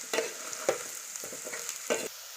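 Potatoes with curry leaves frying in a pan for a crispy potato fry, a steady sizzle broken by several scraping stirs at a close distance, with no voices.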